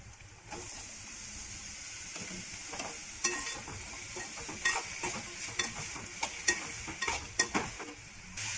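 Chopped banana stem with a pinch of turmeric stir-fries in a pan for a Tamil poriyal, with a soft steady sizzle broken by irregular scrapes and knocks of a spoon that grow busier over time.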